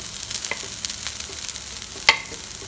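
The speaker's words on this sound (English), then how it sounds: "roast this till it is nice and golden" Grated coconut masala with turmeric powder being stirred and roasted in a pan: a soft sizzle beneath repeated scraping strokes of a spoon, with one sharper scrape near the end.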